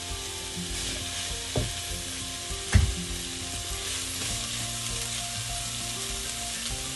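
Runner beans cooking in a covered pan, giving a steady soft hiss and sizzle with a couple of sharp knocks, likely from the lid or a spoon.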